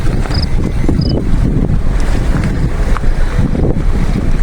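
Heavy monsoon rain over flooded fields near a village in Trimbakeshwar taluka: a loud, steady wash of rain and wind noise with no breaks, plus a few faint high chirps.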